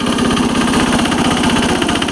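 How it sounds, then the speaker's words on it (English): Case 446 tractor repowered with a Lombardini 6LD 435 diesel running at full throttle in high range, a loud, steady close-up drone with a fast regular engine pulse and no speech. "I'm in high range, and high range is pretty fast in this tractor, full throttle."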